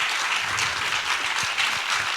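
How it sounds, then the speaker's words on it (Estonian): An audience at a talk during a faith-themed event in Estonia claps in sustained, dense applause that carries on evenly throughout without a break. "Let's give an applause."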